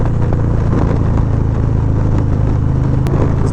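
A 2020 Harley-Davidson Low Rider S being ridden, its engine a loud, steady low rumble under constant wind noise, with no talking.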